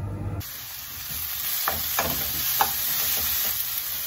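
Onion and diced carrots sizzle steadily in a frying pan, with a few sharp scrapes and taps of a utensil stirring them and no voices present.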